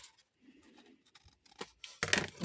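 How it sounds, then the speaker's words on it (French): Scissors snip through paper at a bevel for a craft booklet, a few quiet irregular cuts and rustles close by, ending in a louder crisp slice. "Donc là, on va venir couper en biseau."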